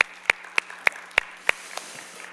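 In a church youth worship service, a few sparse, sharp hand claps ring out one by one at a steady pace in a quiet room, thinning away at the end.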